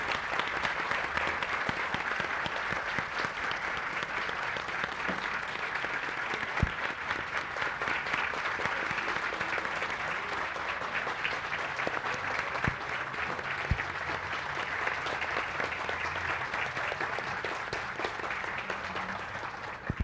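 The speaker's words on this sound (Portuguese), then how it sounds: "eu queria pedir uma salva de palmas e a manifestação do nosso carinho" Audience applause at a literary festival gathering in Petrópolis, a steady, dense wash of clapping from a sizeable crowd that holds evenly for about twenty seconds at moderate distance.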